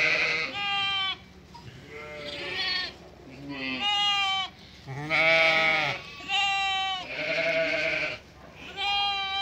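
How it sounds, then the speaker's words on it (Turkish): Several lambs, suckling lambs reunited with their mothers, bleat repeatedly in high, wavering cries, loud and close, overlapping one another with short pauses between calls. "Tek olan kuzular."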